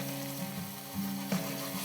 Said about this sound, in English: Here's a little bit of white wine.